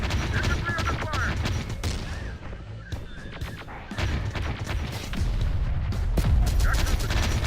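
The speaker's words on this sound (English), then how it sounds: "Infantry under fire." Dense video game battle gunfire with rapid volleys and booming blasts, loud and continuous throughout, mixed with mechanical clatter and shouted voice lines from infantry.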